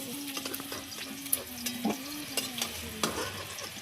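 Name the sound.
aubergine and potato frying in pan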